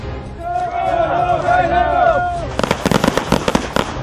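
Live hand grenades explode during Army basic training at Fort Leonard Wood, a rapid run of sharp, loud blasts in close succession following a stretch of shouting and steady commotion.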